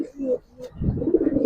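Pigeons coo close by in short, soft, low murmuring bursts, with a person talking over part of it.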